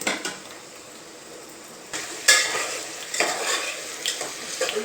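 Ingredients for pulao frying in a pan, a soft steady sizzle under repeated scraping of a spoon or spatula against metal as they are stirred, close and clear.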